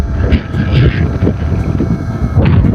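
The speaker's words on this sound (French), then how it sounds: "il y a beaucoup de vent là, je le sens." Strong wind buffets the microphone while an FPV drone is flown outdoors, making a loud, continuous low rumble with gusty swells throughout.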